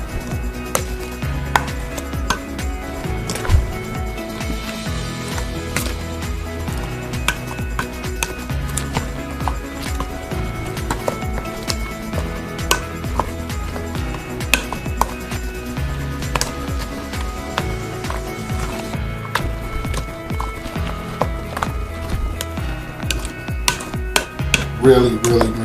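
Coleslaw being stirred in a bowl, a dense run of clattering utensil scrapes and soft knocks in uneven rhythm, close and fairly loud, with music-like tonal layers underneath and no talk.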